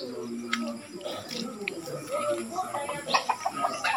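Chickens in a closed container cluck and chirp softly, with faint scattered calls under people talking nearby.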